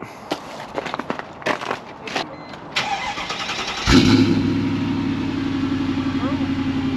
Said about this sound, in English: that is what a catless no resonator m 55 sounds like